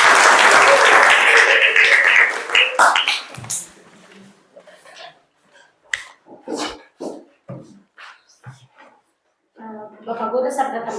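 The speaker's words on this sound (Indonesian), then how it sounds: "Tepuk tangan dulu buat Nova." A classroom claps together, a dense burst of applause lasting about three seconds, then people talk and a few scattered claps and sounds follow, with more clapping swelling near the end.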